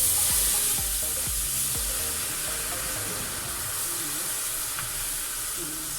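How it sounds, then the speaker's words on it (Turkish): Hot water trickles slowly into creamy pumpkin soup on the stove while it is stirred, giving a steady soft hiss and sizzle with a few low thumps of the spoon early on, fairly quiet and continuous. "sıcak suyumuzu yavaş yavaş ilave ediyoruz içine. şöyle karıştıra karıştıra ilave ederiz"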